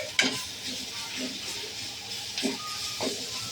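Cabbage, carrot and capsicum with chopped ginger and garlic are stir-fried in a pan for a homemade Chinese soup: a steady sizzle with the spatula scraping and stirring in a few distinct strokes.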